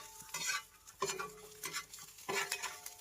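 Clams fry in a pan and are stirred, so a spoon scrapes and clinks in repeated close strokes over a soft sizzle, with no talking.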